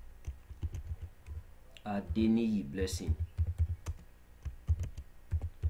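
Typing on a computer keyboard while entering data into an Excel form: steady quick clicks close by, briefly under a spoken phrase and then continuing alone.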